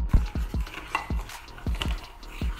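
A spoon stirs a meat and spinach mixture in a cooking pan, with about eight rhythmic scraping strokes and clinks against the pan over faint sizzling, close and fairly loud.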